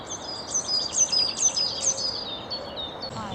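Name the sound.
robin and blue tit song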